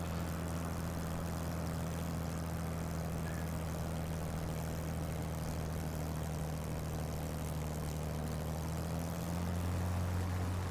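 Spitfire aircraft engine in Microsoft Flight Simulator 2020: a continuous, steady propeller drone with a low throbbing hum, loud and close, holding an even pitch and swelling slightly at the very end, with no talk.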